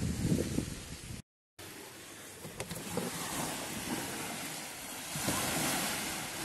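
A fresh breeze blows across a lakeside spot as water laps at the shore, making a continuous rushing wash of wind noise with a brief dropout partway through.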